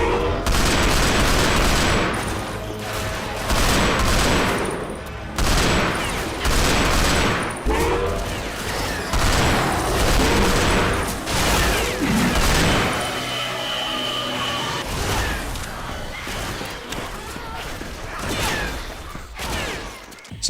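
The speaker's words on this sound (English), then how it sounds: "There's an MG42 that sprays out bullets, has a lot of ammo in reserve and loaded" An MG42 machine gun fires in a Left 4 Dead 2 mod, long loud bursts of rapid automatic fire with brief pauses, mixed with booms and other game noise throughout.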